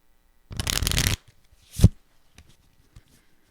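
A quick riffle of cards runs for about half a second, followed by a soft thump as the deck is squared, then quiet.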